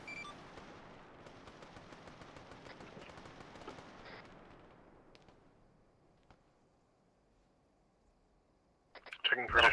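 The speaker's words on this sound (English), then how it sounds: "Autocannon, 50 rounds, 50 meter spacing." Autocannon in a military video game fires a 50-round barrage: a dense, rapid roar of shots for about four seconds that fades into rumbling impacts, then a sharp loud burst near the end.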